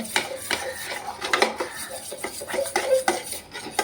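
A soap face-pack cream being stirred in a pan over a low flame, a utensil repeatedly scraping and clinking against the metal in an irregular, close rhythm.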